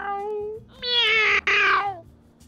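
A human voice imitating a cat meowing in the video game Rust, giving two drawn-out, whiny meows close to the microphone, the second louder with a brief break in the middle.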